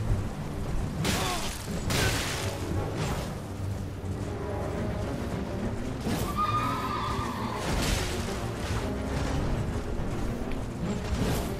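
A horse in the video game Elden Ring neighs and whinnies loudly amid combat, with heavy impacts, clattering hooves and bursts of battle noise throughout a dense, continuous game soundscape.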